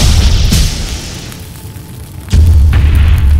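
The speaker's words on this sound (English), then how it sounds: "I think that's a meteor shower." Two heavy booming impacts from a meteor shower sound effect, a sharp boom early followed by a decaying rumble, then a second, louder deep boom that sustains to the end.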